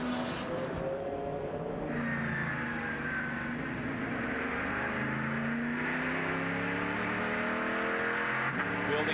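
A Crawford chassis prototype race car at the 24 Hours of Daytona builds back up to speed, its engine note rising steadily in pitch as it accelerates, loud and continuous with a gear change, under commentary-like background.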